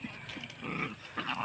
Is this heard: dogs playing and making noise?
yes